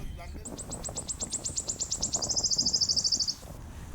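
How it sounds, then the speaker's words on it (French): At a mining site, a bird gives a rapid series of high, clear repeated chirps that speed up into a trill and stop. The notes sound moderately close over a low murmur of background noise. "Des cris des oiseaux"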